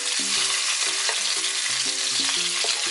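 Shrimp stir-frying in a hot pan for a spicy Thai seafood stir-fry, a steady loud sizzle with rhythmic scraping strokes of a utensil against the pan, close up and with no voices.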